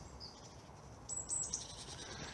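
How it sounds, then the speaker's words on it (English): Small songbirds in a winter woodland in Central Park, Plymouth, give faint, thin high chirps, a few brief calls clustered together over a soft outdoor hiss. "And the little songbirds there."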